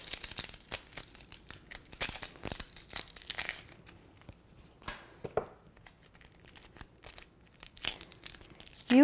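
Dry outer onion skin is peeled away in quiet, close crackling and tearing bursts, with irregular crinkly snaps and short pauses between them.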